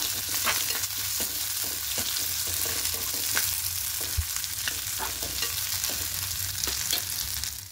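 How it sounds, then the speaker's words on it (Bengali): Onion and garlic fry in hot oil for masoor dal bharta, a continuous close sizzle with repeated scraping stirs of a spatula through the pan and no voices. "এবার পেঁয়াজ আর রসুনটাকে খুব ভালো করে ভেজে নেব।"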